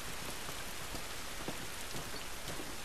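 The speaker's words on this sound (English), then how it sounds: "Look at that rain on the water." Steady rain patters down onto water in a video game, a dense, even hiss with scattered droplet splashes and no voices.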